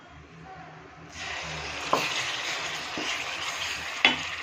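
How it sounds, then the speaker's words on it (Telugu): Ginger garlic paste, half a kilo, dropped into well-heated oil for homemade chicken pickle, starts a steady loud sizzle after a quiet moment, with a couple of sharp crackles and pops as it fries. No talking. "ఆయిల్ అయితే బాగా మరుగుతుందండి అయితే గ్రైండ్ చేసుకున్న అల్లం వెల్లుల్లి పేస్ట్ని ఇది హాఫ్ కేజీ అనమాట ఇది ఒక హాఫ్ అయితే వేస్తాను"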